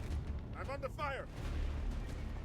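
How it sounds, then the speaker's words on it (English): Muffled, low booming gunfire in the video game XCOM 2, rumbling steadily and fairly faint beneath a brief voice. "I'm under fire."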